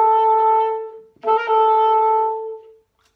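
A clear, sustained instrumental note with a rich harmonic tone leads into an appoggiatura: a grace note leaning on the beat, played alone, before the phrase settles onto its main note and fades out.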